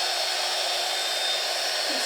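A hair dryer blows steadily over wet watercolor paper, a constant airy whoosh with a faint motor whine, close and even throughout with no speech.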